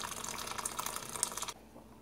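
Hot water is poured into a pot of polenta with saffron, a short splashing, gurgling stream that stops abruptly after about a second and a half.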